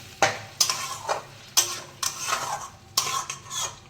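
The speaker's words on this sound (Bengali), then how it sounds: "গরম জলটা আমি দিয়ে দিচ্ছি অল্প করে, দিয়ে এবার নাড়িয়ে ঢেকে রেখে দেবো" Mushroom masala with potatoes stirred in a pot after a little hot water is poured in, giving a few scraping, clinking utensil strokes against cookware with a soft simmer beneath, close and unaccompanied by talk.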